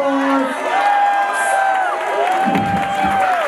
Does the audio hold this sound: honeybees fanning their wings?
no